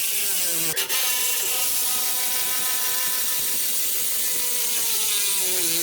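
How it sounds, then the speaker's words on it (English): A ratchet retorquing turbo bolts on a 6.7L Ford F450 diesel during a compound turbo install, loud and close as one steady run of rapid clicking with a brief pause near the start. "Next I'm gonna retorque the turbo on the bottom side, tighten that back down."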